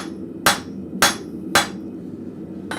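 A blacksmith hammers an arrowhead on an anvil, four sharp ringing strikes in an even rhythm with a pause before the last, close and loud with a low hum between blows.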